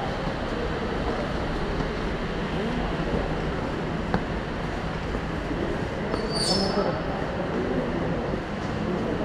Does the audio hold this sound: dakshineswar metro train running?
yes